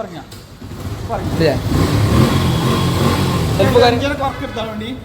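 A used motorcycle engine starts up on its electric self-starter and keeps running with a steady, revving drone, while people talk nearby.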